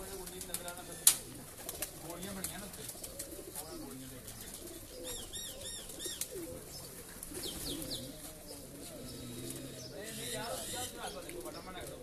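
Breeder pigeons on a rooftop above Lala Yusuf's godowns in Sheikhupura coo in soft repeated rolling calls with scattered chirps, while people talk quietly in the background.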